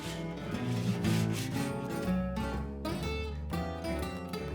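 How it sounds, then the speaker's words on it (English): Wood edges being sanded smooth with steady back-and-forth rubbing strokes, close up, with a squeaky, rasping edge to the friction. "Then I sand off the sharp edges."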